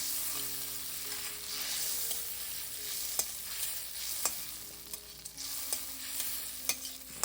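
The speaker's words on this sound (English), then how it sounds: "Got one piece of butter just to melt." Garlic and a piece of butter melt and sizzle in a pan, a steady frying hiss with occasional light clicks of stirring, close and alone without talk.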